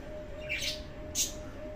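Budgerigars kept for breeding, with the mother bird sitting on four eggs: two short, sharp chirps about half a second apart, fairly close, over a quiet background with a faint steady hum.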